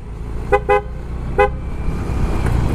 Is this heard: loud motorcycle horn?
yes